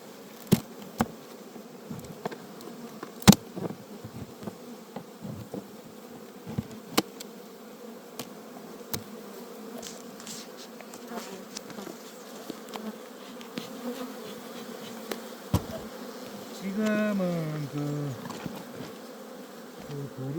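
Bees swarm around an open beehive during hive treatment, giving a steady droning buzz with sharp clicks and knocks, and a louder, nearer buzz of wings near the end.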